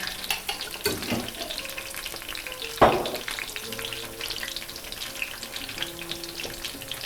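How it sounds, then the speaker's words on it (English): Green chili sauce warms in a pan for vegan chile rellenos, giving a soft, steady sizzle with a sharp stir or clatter near the three-second mark and quiet kitchen noise throughout, no talk. "So we're gonna just get that warming up in the pan here."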